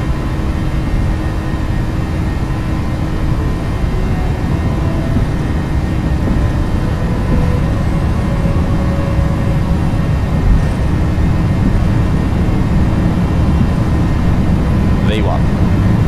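Airliner engines at takeoff thrust during the takeoff roll, a loud, steady low roar filling the cabin without letup, with faint higher tones riding on top.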